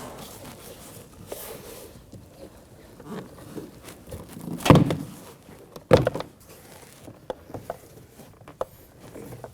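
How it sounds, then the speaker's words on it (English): Prying a plastic door panel off a 2017–2024 Nissan Armada door, heard as a few sharp clip pops and cracks, one loud snap followed by a second, amid quieter scraping and rustling handling noises up close. "We're going to pry onto the door and we're going to work our way up."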